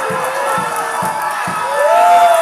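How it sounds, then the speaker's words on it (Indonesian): A crowd at a South Sumatra governor candidates' debate cheers and whoops loudly, with rhythmic rhythmic chanting pulses and a shrill rising shout near the end, clapping mixed into the noise. "Tepuk tangan untuk dua orang yang pernah memimpin Sumatera Selatan."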